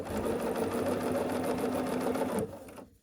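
A sewing machine stitches quilt block pieces for a sawtooth star block, a steady close mechanical whir with a rapid needle rhythm that runs for over two seconds and then stops abruptly into quiet.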